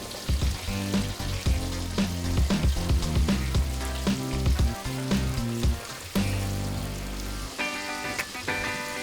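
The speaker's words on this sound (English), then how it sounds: "while the chicken is frying" Chicken frying in hot oil sizzles and crackles steadily, a dense frying hiss with music playing loudly underneath throughout.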